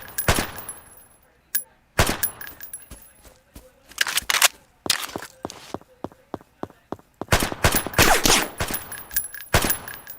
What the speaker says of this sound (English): Now I gotta use my pistol.